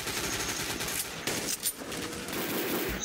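Pistol gunfire in the video game Codename Cure comes as a dense, continuous burst of rapid shots with a loud, steady background of game noise, and no talk.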